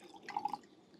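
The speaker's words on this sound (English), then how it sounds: "You pour yourself a Pouligny Montrachet." Puligny-Montrachet Grand Cru white wine poured into a glass, a quiet, brief trickle with a few soft bubbling drips up close.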